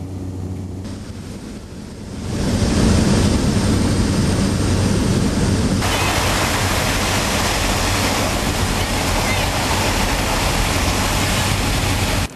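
A bush plane circles at 110 miles an hour over the Arctic National Wildlife Refuge, its engine drone joined by a loud, steady roar of wind buffeting an open window that swells and holds.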